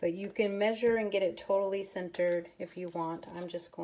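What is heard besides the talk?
None of the usual background noises is heard.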